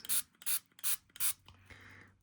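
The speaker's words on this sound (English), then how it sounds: "Thought I had another spray bottle with water." A hand spray bottle of water fires four quick, evenly spaced hissing bursts, followed by a softer rubbing, mechanical rattle, close and clear with no talking.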